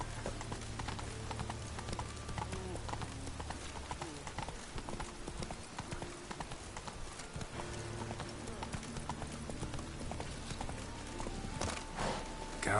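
Hooves pound rapidly as Roach the horse gallops in The Witcher 3, a continuous clip-clop rhythm over a bed of game music and ambience, with a brighter scuffing surge near the end.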